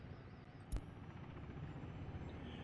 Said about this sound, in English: at the choppers uh, coming and going